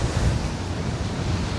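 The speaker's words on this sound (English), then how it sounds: "Very windy." Strong gusty wind buffeting the microphone along the Albanian coast road between Sarande and Vlore, a loud continuous roar with surf-like rumble and no voices.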